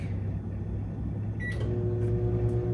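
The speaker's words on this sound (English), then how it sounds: "Put it on the microwave for about a minute." A microwave oven runs with a steady hum while melting about a third of a stick of butter, with a couple of faint beeps or clicks near the end.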